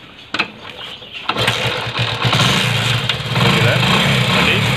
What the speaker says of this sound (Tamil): வண்டி ஸ்டார்ட் ஆகிடுச்சு.